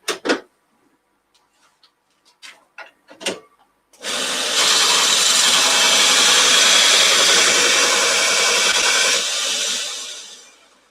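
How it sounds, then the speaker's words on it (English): A woodturning gouge is sharpened. A few light clicks and knocks come first, then a loud, steady, hissing grind runs close for about six seconds before fading out. "I'm just going to give my gouge a quick sharpen."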